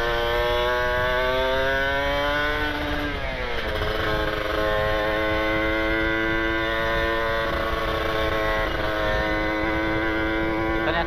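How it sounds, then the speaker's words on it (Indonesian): A Kawasaki Ninja RR motorcycle engine drones steadily up close, its exhaust humming loud and continuous, with a brief dip and rise in pitch as it shifts. "dengerin knalpot orang suka enak gitu"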